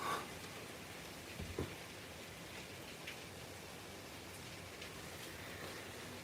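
Steady rain falls outdoors in Los Angeles, a soft, even hiss with no breaks, fairly faint and heard alone without talk.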